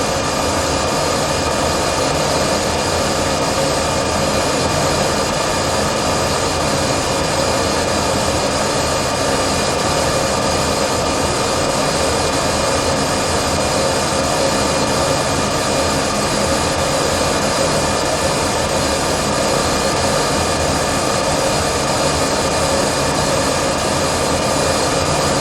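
A Monarch Merit lathe takes a slow-feed finishing cut, about eight thousandths per revolution, after a four-jaw chuck has been fitted. It gives a steady, dense mechanical drone that stays even and unbroken throughout, with no talking.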